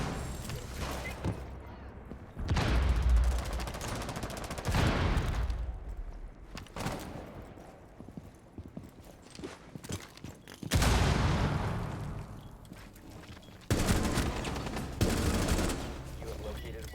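Gunfire in a tactical shooter game, several loud bursts and volleys separated by quieter gaps, some near and some more distant, with people talking between the shots.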